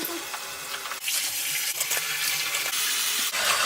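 Running tap water pours steadily as a wig is rinsed of soap in a sink, a close, continuous gushing splash that surges louder partway through, with no voices.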